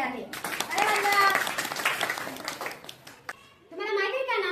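A group of children and adults clapping for ranked students, a burst of scattered hand claps under a voice, fading out before she speaks again.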